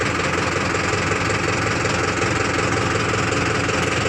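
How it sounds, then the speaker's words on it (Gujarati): A tractor engine runs close by with a loud, continuous knocking rumble that stays steady and unbroken, with no talk over it. "એ ભાઈનું ટ્રેક્ટર હવે સળવા માંડ્યું છે, તમે જોઈ શકો છો."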